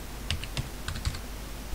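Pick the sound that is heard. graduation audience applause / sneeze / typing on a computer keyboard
typing on a computer keyboard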